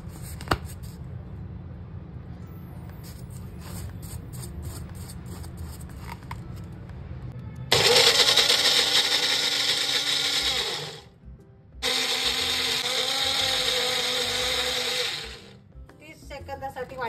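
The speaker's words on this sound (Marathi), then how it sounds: "तर आता मी वाटून घेणार आहे ह्याला बारीक एकदम." Kitchen mixer grinder whirring loudly in two bursts, pulverising a malai kulfi mixture, preceded by quieter handling noise and a short pause between runs.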